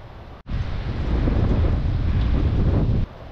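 Steady wind roars and buffets against the microphone for a few seconds, a broad rushing noise that cuts off abruptly.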